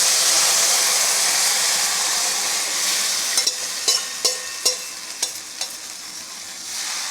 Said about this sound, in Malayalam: ഈ മാവ് കലക്കിയത് അരിയും നാളികേരവും ഉപ്പും ഇതിലേക്ക് ഒഴിക്കുക